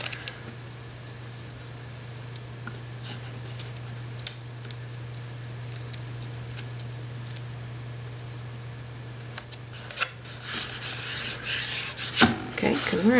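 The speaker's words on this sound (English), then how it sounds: "I'm going to tape off my horizon line here." Masking tape is pulled and pressed onto a canvas to mark a horizon line for an acrylic sunset painting, making soft rubbing and light crackles over a steady hum, then louder tearing and rustling near the end.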